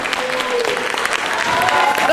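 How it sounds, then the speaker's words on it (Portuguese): An audience standing to applaud actress Fernanda Montenegro in a political tribute: dense, loud, continuous clapping from a large crowd, with voices calling out over it. "aplaudamos Fernanda Montenegro com toda a nossa potência, de pé"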